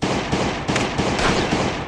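A continuous, loud burst of gunshots from the video game Last Day on Earth: Survival, dense overlapping cracks with a few stronger hits in under two seconds.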